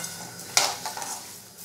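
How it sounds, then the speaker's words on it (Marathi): A spoon stirs turmeric into a hot tempering in a pan, with a sharp scrape and clink near the middle and a soft sizzle around it, close and fairly quiet. "व्यवस्थित मिक्स करून घेऊ."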